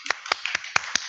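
A few sharp hand claps for a speaker at a talk on active shooter awareness, about five separate close claps spaced irregularly over one second, with no talk.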